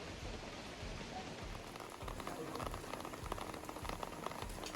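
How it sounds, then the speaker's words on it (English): Steady rain falling on a surface in Negril, Jamaica, a dense even hiss with scattered drops, fairly faint and continuous. "And the rain start fall."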